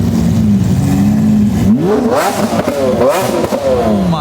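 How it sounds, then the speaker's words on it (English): Lamborghini engine at a car meet, idling low then revving hard in several rising, falling sweeps, loud and close amid crowd noise. "That Lambo sounds crazy."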